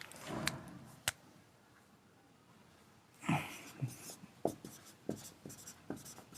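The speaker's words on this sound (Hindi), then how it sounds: "लिख लेते हैं" A hand writes out the name benzoic acid with pen on paper, soft scratchy strokes and small taps in short irregular bursts, faint and close, with no talking.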